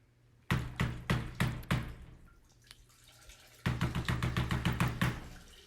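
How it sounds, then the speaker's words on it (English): Sharp, hollow raps on a door during a stage performance of Macbeth, first a run of about six knocks, a pause, then a longer, faster volley of knocks, loud and close in a quiet room. "Knock, knock, knock!"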